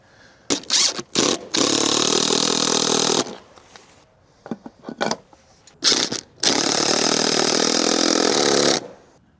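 An impact driver drives galvanized lag screws through a 9/16 socket, up close and loud, in two long rattling hammer runs of about two seconds each, separated by short stop-start blips and pauses.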